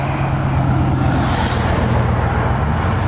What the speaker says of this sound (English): I got a car coming here, so I got to watch out so I don't get run over.